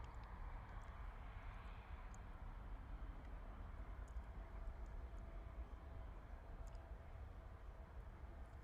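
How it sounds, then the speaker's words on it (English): An EasyJet Airbus A320 departs Bristol Airport in the evening, its jet roar a steady, broad, distant-sounding rush that stays even for several seconds. "gorgeous departure there from the Airbus A320 from EasyJet heading out to Porto this"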